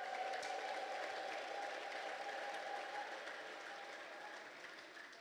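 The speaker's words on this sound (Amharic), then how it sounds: "እስኪልታና ጭብጨባ ለጌታ አስተው" A congregation at a church service claps for the Lord in sustained, dense applause that fades slightly toward the end, with a faint sustained tone carried through it.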